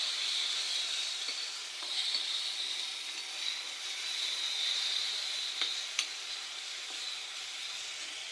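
Chili, ginger and garlic paste fries in hot oil with a constant soft sizzling hiss, dotted with a few small pops and crackles.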